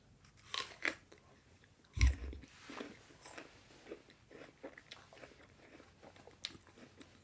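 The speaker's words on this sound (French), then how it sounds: "je prends juste une croque de ma pomme" Someone bites into an apple with a sharp crunch, then chews with soft moist crunching and smacking in an irregular rhythm, close and fairly quiet.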